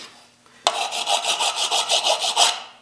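A file rasps across a sheet-metal motorcycle fender in a run of quick, rhythmic back-and-forth strokes, close and fairly loud, then stops.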